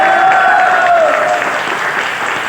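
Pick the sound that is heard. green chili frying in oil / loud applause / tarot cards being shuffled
loud applause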